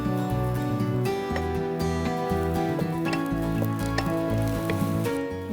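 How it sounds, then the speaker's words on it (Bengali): Chopped garlic sizzles in hot oil in a pan, a steady close crackle with a faint musical tone running underneath throughout. "এখানে হচ্ছে আমার চপ করা গার্লিকটা আমি দিয়ে দিচ্ছি"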